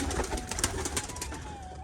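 Pigeons coo softly in an indoor loft on a Rajshahi pigeon farm keeping colour-matched Giribaz flyers, low murmuring calls repeating steadily under a constant background hum.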